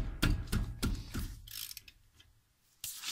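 Ratchet wrench loosening 14 mm brake caliper bolts at the front driver's-side wheel of a 2007–2011 Toyota Camry: several quick close clicking bursts, then quieter rattling and a final loud burst of clicks.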